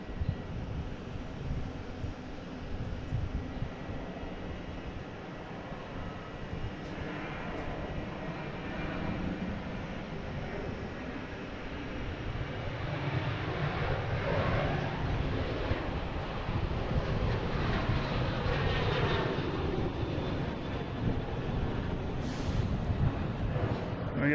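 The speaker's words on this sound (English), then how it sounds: "we have United Airlines heading to Dulles, 737, 900, flight 2136" A United Airlines Boeing 737-900 departing for Dulles makes a broad jet rumble that builds from moderate to louder partway through and stays strong, with gusty wind noise on the microphone.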